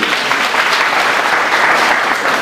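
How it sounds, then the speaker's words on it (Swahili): A congregation applauding at a memorial celebration of life, steady and dense clapping from many people sustained at even loudness, with no talk over it. "Makofi kwa Bwana Yesu"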